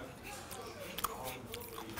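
Fermented skate wing cartilage from near the tail, dabbed with chili powder and salt, is bitten and chewed up close, giving soft crunchy, moist mouth sounds over about two seconds in a restaurant, with faint background voices.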